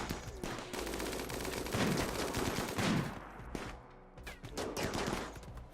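Gunfire in the colony-building video game Rimworld comes as rapid, faint bursts of shots and sharp cracks, clustered into volleys with brief lulls between them.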